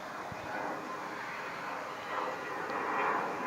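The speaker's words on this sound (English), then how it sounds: "got airplanes going by" Airplanes passing overhead outdoors in a garden, a faint, steady distant roar swelling slightly toward the end.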